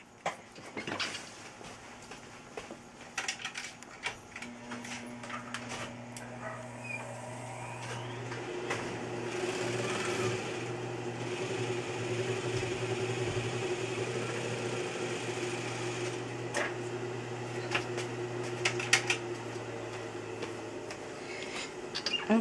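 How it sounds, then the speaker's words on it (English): A sewing machine stitching through fabric for a scrapbook folder, a steady mechanical whir with a low hum and light rattling that runs for most of the time, close and without talk. "I'm gonna stitch right there"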